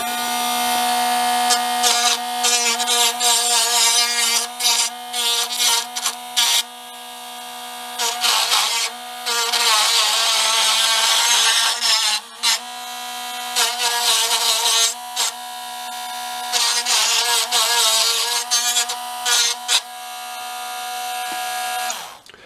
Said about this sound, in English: I then like to take a Dremel type tool. It has a stone bit on it.